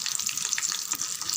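Ginger and two dried red chillies sautéing in hot oil in a pan for ginger pachadi, a steady soft sizzle and crackle throughout, close and fairly quiet with no talking.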